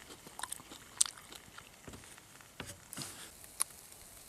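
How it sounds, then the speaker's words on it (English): Food being bitten and chewed at a wild camp in the woods, with quiet crisp crunches and sharp bites scattered irregularly against a faint outdoor background. "just listen to the crunch on this"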